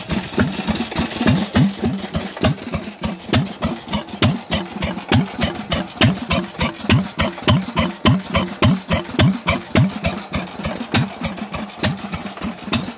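A Lister engine, all original and fitted with a new gas tank, idles close by with a steady, rapid thumping rhythm that continues evenly and loudly throughout with no pauses.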